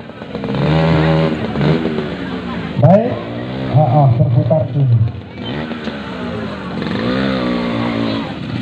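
An original RKK-built trail motorcycle runs at a street parade during a badui performance, its engine droning steadily underneath someone talking close by.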